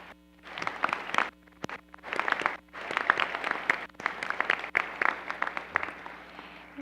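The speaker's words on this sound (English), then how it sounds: "Can you please join me in giving them a round of applause?" A crowd at a summer commencement ceremony applauds, with uneven waves of clapping and possible cheering that swell and dip over several seconds in a large room.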